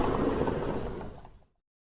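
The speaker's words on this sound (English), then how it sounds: "And it's the sound of a glass door sliding." A glass sliding door glides along its track in a steady rushing whoosh that fades out over about a second and a half, then stops, with no voices.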